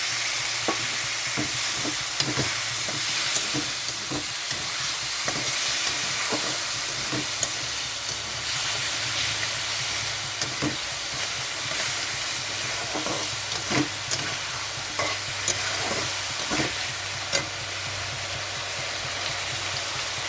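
Spice masala for a katla fish curry with ridge gourd and potato sizzles in a pan after a splash of water, a steady close hiss punctuated by repeated scraping stirs for about twenty seconds.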